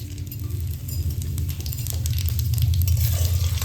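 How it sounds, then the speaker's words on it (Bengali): Bay leaf, dried chilli and cumin seeds sizzle in hot oil for a Bengali vegetarian cabbage dish, a steady close crackling hiss with light popping that holds throughout and swells slightly toward the end. "এই তেলেই আমি এই তেজপাতা, শুকনো লঙ্কা আর জিরে ফোড়ন দিয়ে নিচ্ছি"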